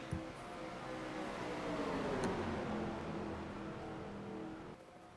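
Race cars running side by side in a Miller Lite Cup Series race make a steady, distant engine drone that swells briefly as a car passes mid-way, with no talk.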